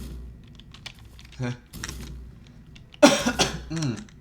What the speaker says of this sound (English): Yes, my cough again.